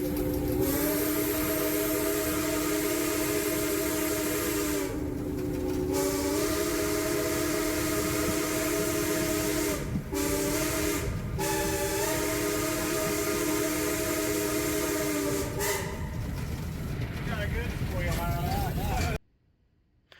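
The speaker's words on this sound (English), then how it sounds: "the engineer let me blow the whistle" The steam whistle of Western Maryland 1309 locomotive sounds a long, loud, sustained chord. It breaks off briefly a few times, with a steady hiss beneath it, before cutting off abruptly.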